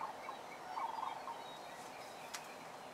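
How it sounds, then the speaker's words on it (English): Wild turkeys gobbling in the distance on a quiet Central Florida morning, a faint burst of rattling calls under soft outdoor ambience, heard from a porch with no talking. "You hear them wild birds."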